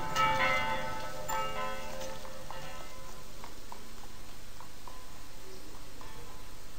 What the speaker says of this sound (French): Écoute, les cloches sont les mêmes.